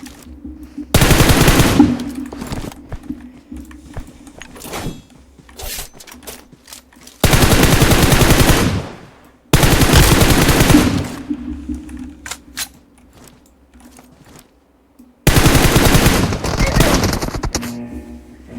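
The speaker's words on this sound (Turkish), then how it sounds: "Orada bir çatışma var." Loud bursts of automatic gunfire in a PUBG Mobile firefight, four long sustained volleys separated by quieter gaps with a low game hum, close and harsh, with a voice talking faintly underneath.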